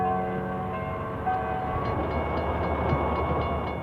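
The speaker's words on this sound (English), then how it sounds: "trains rattle right through the heart of town" A freight train rattles through the heart of Bellevue, Iowa, a loud, steady rumble and clatter of rolling cars with a sustained horn tone at the start and rhythmic clacking building toward the end.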